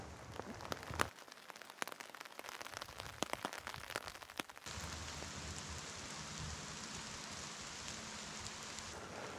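Steady rain falls through a forest during a windy storm, with sharp close drops and taps in the first half giving way to a dense, even hiss of rainfall with no speech.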